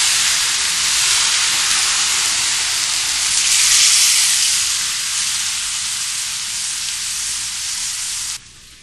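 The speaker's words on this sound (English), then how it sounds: "The next step, once the meat is sealed, is to add the stock that we made a few minutes ago." Sealed pork chops in a pan hiss loudly and steadily after stock is poured in, a close dense sizzle that swells midway and then cuts off.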